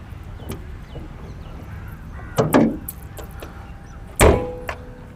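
The bonnet of a Maruti Swift Dzire is shut with two solid metallic thumps, the second louder and more final, heard close by against quiet background noise.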